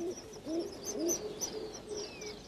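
Rock pigeons mating in the Drakensberg Mountains give soft, hollow cooing notes, several repeated in a slow rhythmic series, faint against quiet outdoor ambience with no talking.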